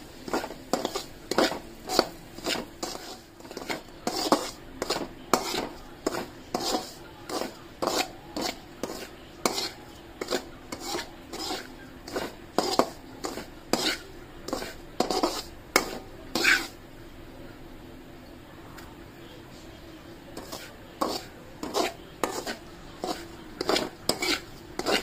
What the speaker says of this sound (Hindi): चलाते ही रहना है, नहीं तो नीचे जल जाएगा।